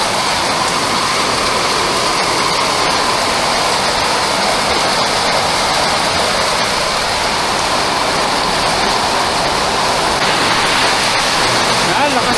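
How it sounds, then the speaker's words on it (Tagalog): Heavy rain pours steadily and loudly, a dense continuous roar of water drumming on a surface with no letup. "malakas lakas po na ulan talaga"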